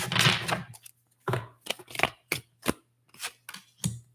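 Tarot cards being shuffled in a series of short papery riffles and slides, close and moderately loud with brief pauses between bursts, over a faint steady low hum and no talking.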